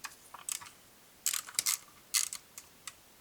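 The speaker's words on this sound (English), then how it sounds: "We're going to remove this cover." Bolts are worked loose from a cover on a Honda ADV150 scooter, giving a series of quick, close metallic clicks and ratcheting ticks in short irregular bursts, with no talking.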